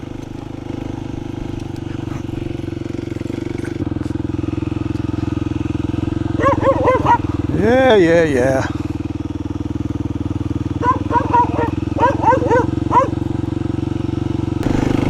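A 2024 Kawasaki KLX300 motorcycle engine drones steadily at close range on a rural road, with a low constant rumble, while a voice speaks briefly over it.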